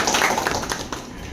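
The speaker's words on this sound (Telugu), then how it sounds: "సో అందరూ ఒకసారి చప్పట్లు కొట్టాలి." An audience claps together at a press meet in Velair mandal headquarters, a dense and steady patter of many hands throughout, fairly close and loud.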